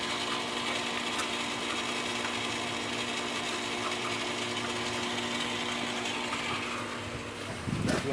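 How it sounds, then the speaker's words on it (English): A Hotsy 65-gallon automatic parts washer runs with its skimmer working, a steady, loud mechanical whirring and rattling drone with a faint ticking texture, holding constant until a brief shift near the end. "the skimmer is actually running right now"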